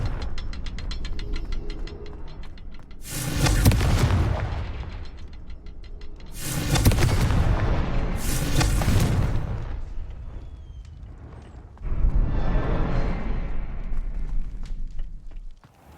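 Confringo blasting spells explode in Hogwarts Legacy on PS5, with four loud, booming blasts landing in fairly quick succession, each followed by a rumbling decay, over a quieter mechanical background.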